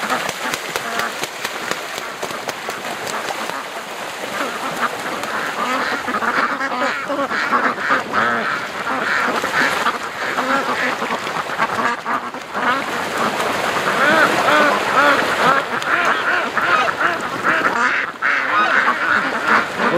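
A flock of ducks quacks and chatters continuously at a lake, dense overlapping calls close by, with people talking and laughing throughout.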